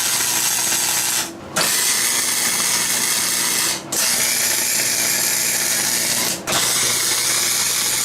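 Welder tack welding a metal speaker stand: a loud, steady, crackling buzz that runs continuously, broken by three short pauses between tacks.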